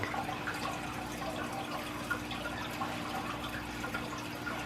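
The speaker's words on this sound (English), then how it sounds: "Get some water in my big container here." Water pours steadily into a large container used for moving fish between aquarium tanks, a constant splashing rush that runs unbroken and fairly loud throughout.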